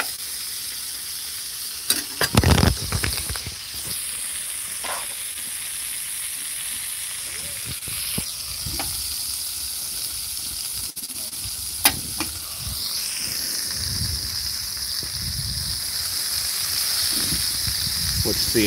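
Burgers sear on a Blackstone griddle outdoors at Whitefish Lake, a continuous loud hiss with scraping spatula strokes and clanks near the start, while someone talks intermittently over it.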